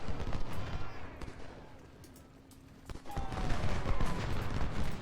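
Crackling infantry volleys from a Civil War battle in Ultimate General: Civil War, with scattered musket shots at moderate distance, a quieter stretch in the middle, then denser sustained fire building again toward the end.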